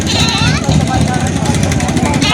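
Goats bleat amid a busy goat market, their calls rising over constant chatter and a nearby motorcycle engine.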